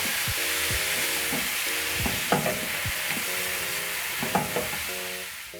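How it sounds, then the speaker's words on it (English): Blended tomatoes stirred into liver frying in a pan, with a steady loud sizzle under scraping spoon strokes that repeat at a regular pace. "At this point, I'm going to add my blended tomatoes. I'm using 2. Stir in the tomatoes."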